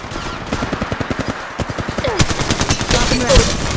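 Rapid automatic gunfire in Apex Legends Mobile rattles out in a steady burst of close, loud shots that grows denser and heavier toward the end.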